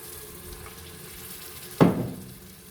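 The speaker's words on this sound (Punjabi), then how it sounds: "ਇਹਦੇ ਵਿੱਚ ਨਾਲ ਹੀ ਤਕਰੀਬਨ 1 ਗਲਾਸ ਪਾਣੀ ਦਾ ਪਾਵਾਂਗੇ" About a glass of water poured into tomato frying in a pan for chickpea curry, a sudden loud gush and hiss near 1.8 seconds over a quiet background, then fading.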